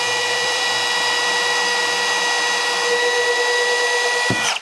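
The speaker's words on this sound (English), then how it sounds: "we're gonna drill a pilot hole into this cherry" A steady, high-pitched power drill whines continuously for several seconds, close up, drilling a pilot hole into cherry hardwood, then cuts off abruptly at the end.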